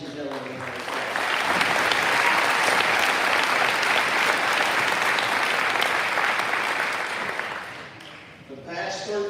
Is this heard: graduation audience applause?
yes